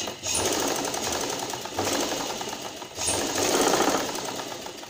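Bursts of a sewing machine stitching a salwar waistband, three runs of rapid mechanical whirring separated by short pauses, close and fairly quiet with no talking.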